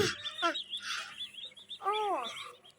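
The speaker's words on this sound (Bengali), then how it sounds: "আরিশা, তোমার মুরগি এটা? ওহ, অনেক সুন্দর।" Soft, high chirps from a small chicken chick come in a few brief bursts, close by and faint, against a quiet background.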